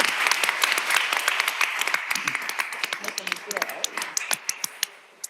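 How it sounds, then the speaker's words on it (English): A crowd at a city council meeting claps: a thick burst of applause that gradually thins into scattered, separate claps and then stops, with voices murmuring underneath. "Yes, y'all can clap at this point."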